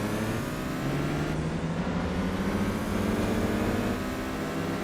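Racing car engines in Gran Turismo 4, with a Peugeot leading and a Lancia behind, a constant droning engine tone with shifting pitch, loud and steady throughout.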